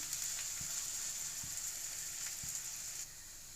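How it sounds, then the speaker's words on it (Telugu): Chopped onions fry steadily in hot oil until light golden, a continuous close sizzle with a few soft stirring taps, stopping abruptly near the end. "ఆయిల్ హీట్ అయిన తర్వాత వన్ కప్ ఆనియన్స్ వేసుకుని వేయించుకోవాలి"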